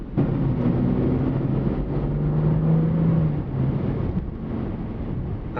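A 2014 BMW 335i Sport Package accelerates under partial throttle, its engine holding a steady, slightly rising drone mixed with wind rush, heard alone without any talking.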